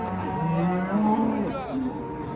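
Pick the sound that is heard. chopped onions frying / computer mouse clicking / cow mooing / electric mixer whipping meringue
cow mooing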